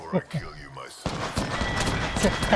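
Rapid gunfire in Apex Legends erupts midway and continues as a dense, loud fusillade, with a voice talking briefly before it starts and faint speech mixed in.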